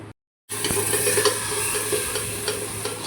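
After a brief silence, spices crackle and sizzle steadily in hot oil for tempering, with red chilli, a close, continuous hiss with occasional sharper pops.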